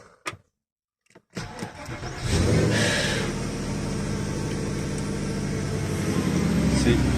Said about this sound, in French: Si, le moteur s'allume.